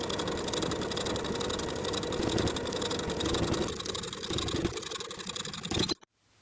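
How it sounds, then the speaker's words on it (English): Sewing machine stitching the folded placket edge of a garment: a steady, close, continuous mechanical whir and rapid needle rhythm for about six seconds, then it stops abruptly. "I'm going to sew that folded edge of the placket in place from the right side of the garment"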